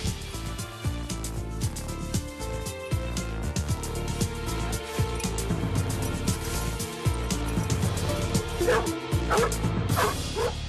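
A human remains detection dog barks and yips repeatedly during a search, its calls mixed in with a continuous, loud music score.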